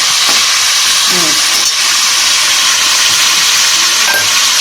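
Whole garam masala spices frying in hot oil give a loud, steady hiss and sizzle that runs throughout, with a few faint clicks and clatters in the background.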